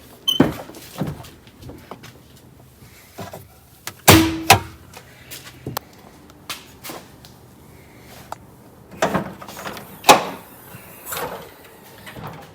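A third-generation Cummins pickup's hood opens on fresh hood shocks, with a scattering of clunks, latch clicks and a smooth gas-strut release, the sharpest knocks coming in a cluster midway and again near the end.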